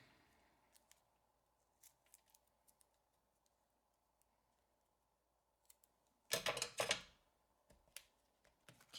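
Scissors cut through card paper for a Christmas tree card, a loud close crunchy burst of snips near the end after scattered faint ticks and rustles in a quiet room.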